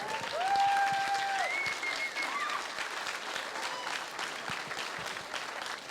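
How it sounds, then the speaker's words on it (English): A crowd at an alumni association induction ceremony applauding steadily, a dense patter of many hands clapping that holds for several seconds, with faint voices mixed in. "if we could just all give one last round of applause to all of our inductees"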